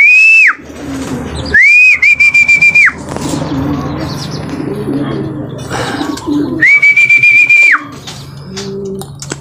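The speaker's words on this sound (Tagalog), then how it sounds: "Tingnan natin kung ano po yung mga ibon na dumating." Racing pigeons arriving at the loft after a race flutter and coo close by while loud whistles cut in repeatedly; someone talks over the birds at points.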